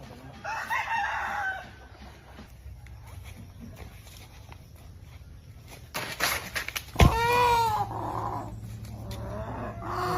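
Chickens in a rural yard with a rooster giving a loud crow partway through, other fowl calls scattered around it, amid low background noise and brief voices.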